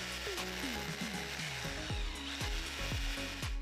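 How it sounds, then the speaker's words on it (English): Power drill boring two holes into the wall on either side above a window for a blind bracket, a steady loud whirring with repeated pitch sweeps and short bursts as the bit bites, with no voices. "we'll drill 2 holes on the sides."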